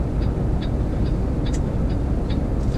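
A long freight train rolls by a waiting truck in a low, steady rumble, with faint rhythmic clacks repeating about every half second over the continuous roar.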